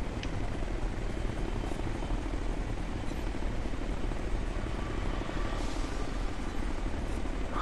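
Enemy helicopter in the video game Ghost Recon Future Soldier, a steady, loud rotor thrum with engine whine running unbroken throughout, with no talk over it.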